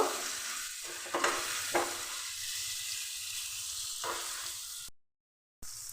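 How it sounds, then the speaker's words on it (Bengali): Long-sliced onions fry lightly in oil in a pan, with a soft, steady sizzle and occasional stirring scrapes. A brief silent gap comes near the end. "পেঁয়াজটা হালকা করে একটু ভেজে নেব"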